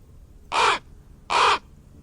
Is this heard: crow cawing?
yes